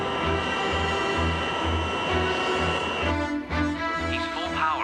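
In a movie hostage scene, an airliner's engines run at full power with flaps at 10 degrees and brakes about to release, a loud, steady droning roar with a pitch shift partway through, alone without talk.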